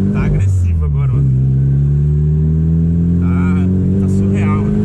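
Upgraded car engine running with a strong, rising harmonic drone that revs up and holds loud and near, while voices talk over it.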